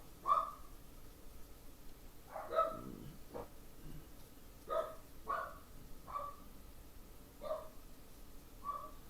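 Several dogs bark in short, separated bursts indoors, some sharper yips among deeper barks, spaced irregularly at moderate distance with no talking over them.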